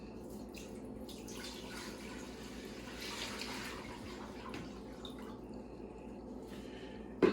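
About a half gallon of water pours into a saucepan for a turkey brine, a soft continuous trickling and splashing at low level, ending with a brief clunk.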